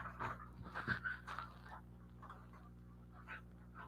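A puppy pants in quick breathy bursts with a few soft whimpers, close by and quiet, fading toward the end.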